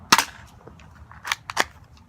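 A G1 airsoft gun fires at a cup, three or four sharp snapping shots with light impact ticks, quiet and close with no talking.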